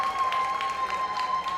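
An audience applauding a singer at a performing arts awards ceremony, a brief steady patter of many hands clapping together with a faint steady tone running underneath.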